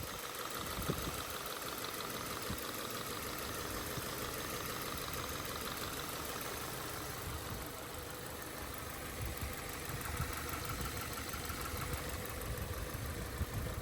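A 2016 Subaru Crosstrek with a replacement engine idles steadily, a continuous mid-pitched hum with a faint knocking texture running evenly throughout, with no voices.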